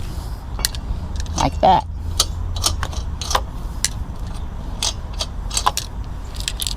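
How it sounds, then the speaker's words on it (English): Car lug nuts are unscrewed by hand during a flat tire change, with scattered metallic clicks, clinks and jangles as the nuts drop into a palm, under a steady low background and a brief spoken remark. "I can hand unscrew my lug nuts, drop them into my hand so I do not lose them."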